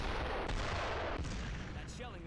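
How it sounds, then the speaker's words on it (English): Heavy naval guns shelling a coastline during a World War II beach invasion in Brothers in Arms, a sustained roar of rumbling booms and blasts filling the whole moment, loud and dense with distant impacts. "Those are Navy guns!"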